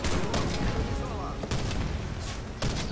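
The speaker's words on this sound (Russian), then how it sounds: "По мне снайпер откуда-то вообще это мочил." Sniper gunfire in the video game Warface: a few sharp shots crack through dense, continuous battle noise.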